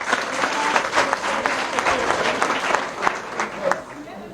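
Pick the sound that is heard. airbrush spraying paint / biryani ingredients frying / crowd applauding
crowd applauding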